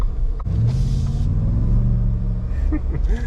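A 2021 Shelby F-150 pickup rumbles and revs under quick throttle blips while moving slowly through a bumpy parking lot, a steady close engine drone swelling in pitch, with brief talk over it.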